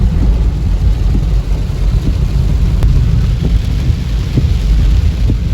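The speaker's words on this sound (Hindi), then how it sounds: "ये बारिश तो कम होने का नाम ही नहीं ले रही भाई" Heavy cloudburst rain in Dehradun pours steadily in a dense, loud roar with low rumbling beneath, continuous throughout with no voices.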